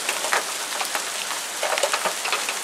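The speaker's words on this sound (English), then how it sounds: "We almost have quarter size hail." Heavy rain with hail pelting down during a summer thunderstorm in Tacoma, Washington, a dense steady roar broken by sharper close impacts, loud and continuous with no voices.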